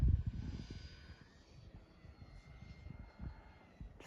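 A model aircraft on approach during a touch-and-go session, its engine a faint, distant low drone that is loudest at the start and then fades to a quiet steady hum.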